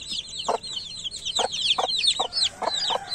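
Baby chicks peep in a steady high-pitched chorus, with short lower clucks breaking in every half second or so, close and continuous.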